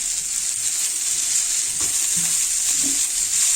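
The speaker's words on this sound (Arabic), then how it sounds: "وكده ننزل بقى الفلفل الالوان بتاعنا." Coloured bell peppers hit a hot pan beside grilled chicken breasts, giving a bright, continuous sizzle with faint stirring knocks underneath, close and steady.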